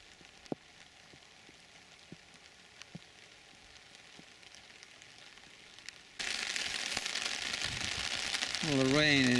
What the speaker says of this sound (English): the rain is relentless